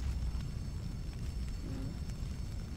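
Explosion aftermath in Splinter Cell, a dense low rumbling roar that stays loud and steady across the whole moment with faint crackle on top.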